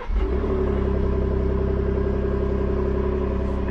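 Ford 3.5 EcoBoost truck engine idling on a cold start, a loud, steady, close rumble with an even drone that holds throughout with no talking.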